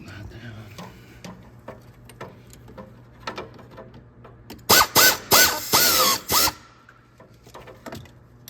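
A ratcheting power tool tightens a bolt during a coolant flush on a 2010 Ford Focus with a handful of loud, close whirring bursts in quick succession. Quiet handling clicks and low talk can be heard around them.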